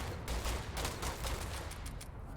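Shotgun fire in the sci-fi video game Starfield, a quick run of several sharp blasts in close succession over a noisy background, fairly faint overall.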